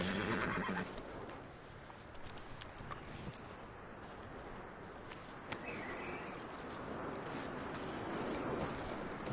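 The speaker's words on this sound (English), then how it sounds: "That looks like a decent horse." Horse neighing in Red Dead Redemption 2, a loud whinny at the start followed by nearby hoof clip-clops and birdsong in an outdoor game setting, quiet overall.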